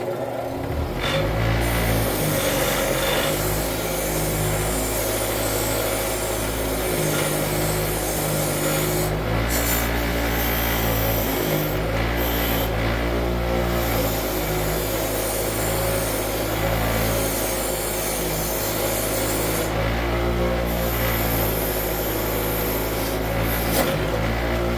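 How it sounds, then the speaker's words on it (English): A bench wire wheel scrubs corroded metal parts after chemical stripping, a loud, steady grinding whine with harsh rasping as each piece is pressed in, running continuously with no talk. "So now I'm going to clean them on the wire wheel here."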